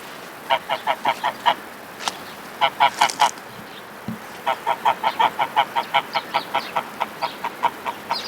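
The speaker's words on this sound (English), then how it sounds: "Those are our geese." Geese honking repeatedly in quick runs of loud, nasal calls, a flock close by with short pauses between bursts.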